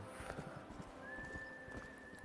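A horse gallops in the Red Dead Redemption video game, its hooves striking a quick, rhythmic clip-clop across rough open country. The hoofbeats stay soft and fairly distant, with a faint thin tone drifting over them.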